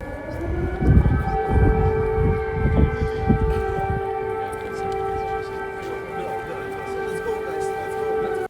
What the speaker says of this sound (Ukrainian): коли в цей час лунали сирени повітряної тривоги